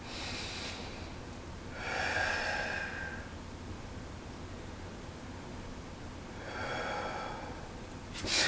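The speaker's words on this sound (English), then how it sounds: "Just 2 more deep breaths." Slow, deep breaths during a stretching class come in two long cycles, each a soft airy inhale and exhale, close to the microphone over quiet background hiss, without talking.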